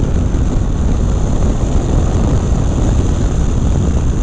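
A 2015 Yamaha FJ-09 engine pulls hard in fourth gear from about 45 mph toward 80, a loud steady roar blended with heavy wind rush at speed, continuous with no break.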